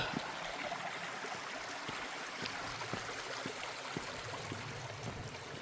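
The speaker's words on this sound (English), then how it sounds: "I follow this water all the way down to the shelter so I can grab it" A small stream flowing beside a hiking trail on the Appalachian Trail in North Carolina, a steady soft rushing wash with faint trickles and splashes, continuous and fairly quiet with no talking.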